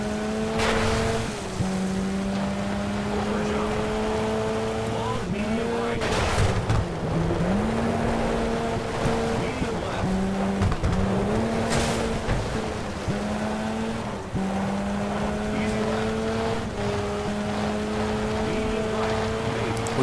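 A rally car engine drones steadily in the Sega Rally video game, pitch stepping up and dropping with gear changes over a continuous loud roar, with no talking.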